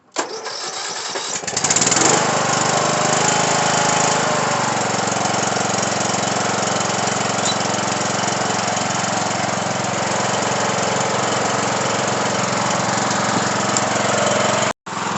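A Troy-Bilt Pony riding lawn mower with a 42-inch deck, choked and with blades raised, cranks and fires within about two seconds, then runs at a loud, steady idle close by until a brief cutout at the end.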